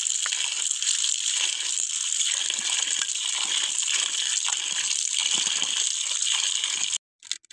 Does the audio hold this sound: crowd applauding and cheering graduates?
no